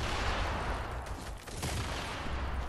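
Gunshots in the survival video game Just Survive form a dense, loud wash of overlapping fire that runs the whole time with no clear pause.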